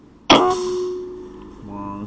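One sharp, loud shot from a Bulldog OD 38 V2 PCP air rifle strikes a target 20 meters out with a crisp metallic clang. The ring lingers and fades, and a faint low hum rises near the end.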